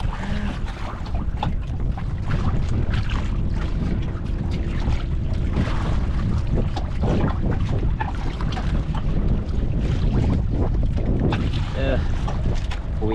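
A fishing boat at sea heads home, its steady engine drone mixed with loud wind buffeting the microphone and water wash throughout, with voices talking faintly underneath.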